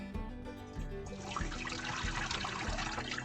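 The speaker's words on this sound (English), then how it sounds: "drain the squash" Hot water and blanched squash pour out through a strainer, a quiet gushing splash that builds after a moment into a steady, bubbling trickle of draining liquid.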